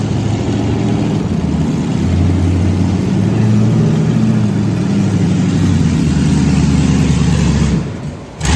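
A near, loud engine of the off-road vehicle Bob runs rough and uneven for about eight seconds, struggling to hold idle, with a low, wavering rumble before it suddenly drops out near the end.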